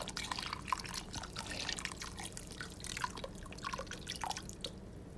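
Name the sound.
pouring beef stock and chicken broth into crock pot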